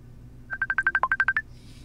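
Telephone keypad dialing: a quick run of about ten evenly spaced DTMF tones, one lower, sounding close and clear over a faint low hum, with no ringing after it.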